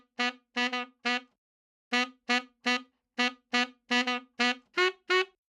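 Tenor saxophone in a vintage-style mix of a song, playing short, punchy repeated notes in rhythmic groups of three with brief gaps, bright and upfront, heard alone without voices.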